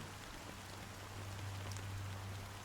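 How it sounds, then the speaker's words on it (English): Steady fine rain falls continuously in a scene from the game Honkai: Star Rail, a soft even hiss with a faint low hum underneath, quiet and unbroken with no voices. "It was a fine drizzle of black rain"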